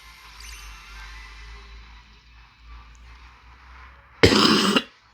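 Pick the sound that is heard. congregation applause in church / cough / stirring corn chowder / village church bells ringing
cough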